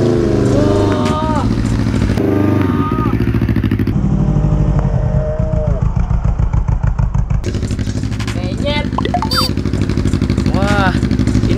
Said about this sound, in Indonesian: Ternyata kalau terong dilindes tuh penyet guys